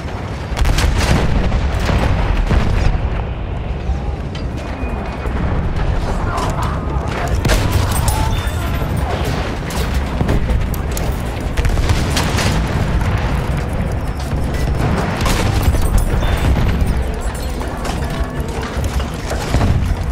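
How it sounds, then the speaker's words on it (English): Machine gun fire and explosions fill a video game battle over an objective, with dense, continuous rattling bursts and booms that stay loud throughout amid other battle noise. "Machine gun over there!"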